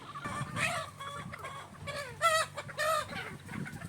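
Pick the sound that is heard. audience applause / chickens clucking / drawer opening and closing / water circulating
chickens clucking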